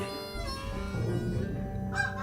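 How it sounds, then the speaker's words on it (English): A solitary goose honks while flying overhead above a park with a baseball field, giving a few fairly loud, drawn-out calls with no one talking. "A solitary goose called, unseen for a moment, the winsome sound coming from all around until it was overhead."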